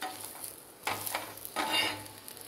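Bread omelette frying in a pan while it is turned over, giving a steady soft sizzle with brief scraping bursts from the spatula as it flips.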